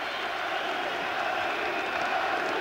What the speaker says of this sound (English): Crowd are going absolutely wild, and we haven't seen a punch thrown yet.